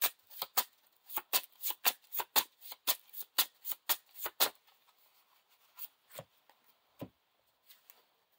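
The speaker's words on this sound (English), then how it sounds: "I'm going to shuffle" Deck of playing cards for the Lord of the Rings card game being riffle-shuffled, a quick run of about a dozen crisp rhythmic riffles close up, then a few scattered slower snaps and taps in quiet.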